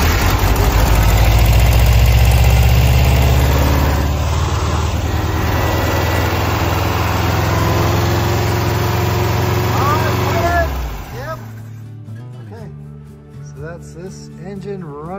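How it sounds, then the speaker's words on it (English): An old original bus engine runs loud and rough at close range with a steady idling rumble, then cuts out, leaving people talking in the quiet that follows. "Engine running"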